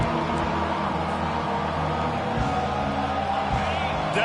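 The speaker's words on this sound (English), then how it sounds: "decibels rising as the crowd gets behind this defense on third down." A football stadium crowd on a third down sends up a dense, steady roar of cheering that holds at a loud level throughout.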